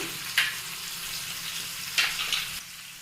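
Water comes to a boil in a pan of fried vegetables, a steady bubbling sizzle with sharper hissing spurts as it is stirred, close and fairly loud with no talking.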